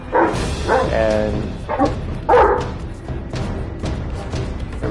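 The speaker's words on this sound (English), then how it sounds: "my dog's a giant Great Dane, and she's feeling pretty feisty right now" A Great Dane barks indoors, a few deep loud woofs with short whiny yips in between, close by, while someone speaks briefly and a racing game plays in the background.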